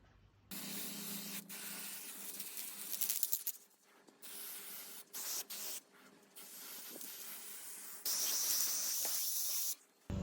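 Spray can applying silver paint over a CD-shard mosaic in several close, loud hissing bursts of differing length, separated by short pauses, with a longer steady burst near the end.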